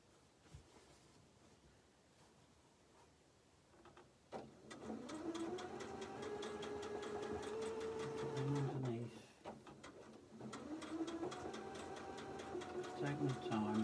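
A sewing machine stitches a seam on a quilt made of Japanese fabric, running in a steady whirring burst after a quiet start with faint talk, then pausing briefly and starting again.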